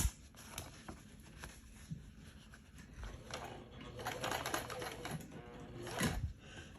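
A sewing machine runs a zigzag stitch, a quiet, fast patter of needle strokes with faint mechanical clicking, rising slightly toward the end.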